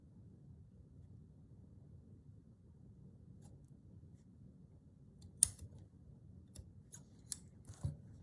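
Scissors snip through fabric for a stitched fence in a slow-stitch village scene, a few crisp isolated cuts near the end over a quiet background.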